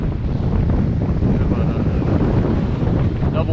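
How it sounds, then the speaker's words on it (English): Strong wind roars steadily across the microphone while sailing a boat under a double or triple reefed jib in stormy conditions, with water rushing beneath and a brief faint voice near the end. "although there's a fair amount of wind"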